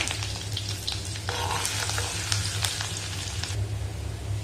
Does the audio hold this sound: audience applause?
no